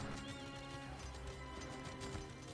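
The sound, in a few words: Flaming Horse mount hooves in video game Elder Scrolls Online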